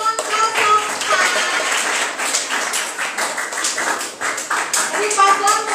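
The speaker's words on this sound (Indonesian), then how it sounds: "Oke, tepuk tangan untuk paslon" An audience at a school student council candidate debate claps for candidate pair 04, brisk applause filling the clip at close range, with a voice speaking over it.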